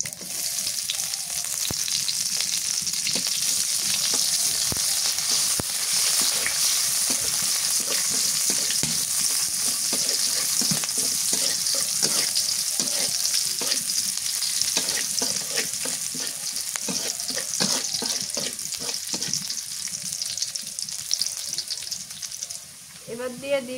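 Chopped onion frying in mustard oil after black cumin seeds, a loud continuous sizzle with frequent stirring scrapes running all the way through.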